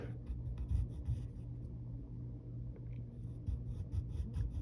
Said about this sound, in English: So we'll draw the lower lip